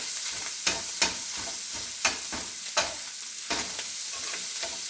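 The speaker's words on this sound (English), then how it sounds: "we're just going to brown the ground sausage, chop it all up" Ground sausage browns in a hot pan, a bright continuous sizzle punctuated by several sharp scraping and chopping strokes of a utensil against the pan.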